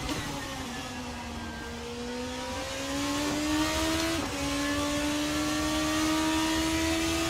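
A Formula 2 race car engine in Assetto Corsa at Interlagos drones loudly and steadily, its pitch climbing through the revs with a quick gear shift partway through.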